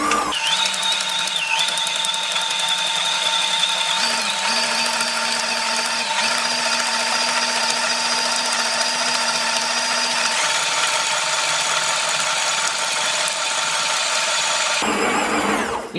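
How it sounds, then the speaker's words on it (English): A stand mixer kneads pizza dough, its motor whirring steadily and loud with a constant mechanical hum that shifts pitch a few times as speed changes, cutting off abruptly near the end. "It's important that you will see in the machine the dough stretching"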